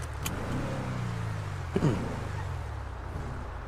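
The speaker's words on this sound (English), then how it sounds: "This good old faithful truck." A truck engine in GTA V, running close with a low droning hum and a rising and falling pitch as it drives, plus a brief mechanical clunk midway.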